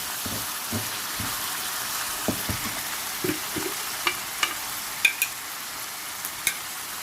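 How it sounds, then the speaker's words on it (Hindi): Qeema methi, minced meat with fenugreek leaves, frying in a pan. It gives a soft, constant sizzle, and a spoon scrapes and taps against the pan now and then as it is stirred. No one speaks. "तो इसको भून लेते हैं इसके साथ ही।"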